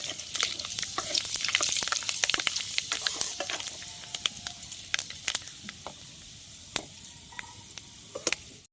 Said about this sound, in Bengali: মেথি ফোড়ন দিয়ে নেব কিন্তু মেথিটা ফোড়ন দিয়ে আমি কিন্তু তুলে দেব